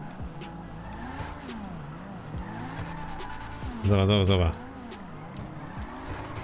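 Cars in GTA Online drifting with repeated rising and falling tire squeals and engine revs, closely spaced skids, with one loud sustained screech midway; someone talks over it.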